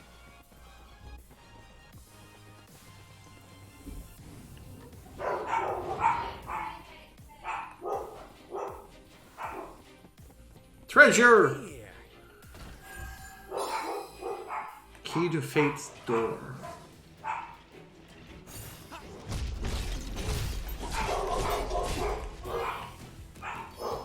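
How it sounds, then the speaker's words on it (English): A dog barks in a streamer's room at home during a Stranger of Paradise Final Fantasy game stream, several sharp barks scattered through the stretch, heard alongside someone talking and game audio. "Apologies for the barking."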